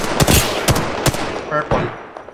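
Loud bursts of gunfire in a shooting video game, a few sharp shots and short volleys spaced across the moment, with faint voices in the background.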